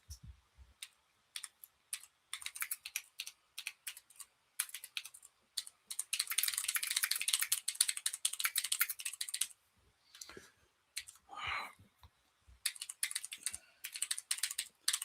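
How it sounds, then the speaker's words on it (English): Bursts of rapid keyboard typing, clicking keys in quick uneven runs with brief pauses, close and fairly quiet. "Sorry, I'm typing. I know y'all love to hear the keyboard."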